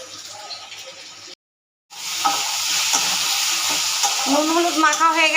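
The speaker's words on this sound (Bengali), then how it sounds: "এবার আমি বেগুনগুলো একটা একটা করে ভাজবো।" Salted, turmeric-rubbed brinjal slices fry in plenty of oil, a loud steady sizzle that cuts out briefly then returns stronger as more slices hit the pan, with crackling bursts near the end and no voices.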